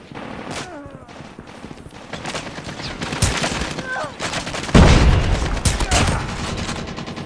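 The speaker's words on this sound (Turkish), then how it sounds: "Nereye atış ediyor bu ya?" Call of Duty gunfire rattles in sustained rapid bursts of automatic fire with heavier booming hits, loud and continuous throughout.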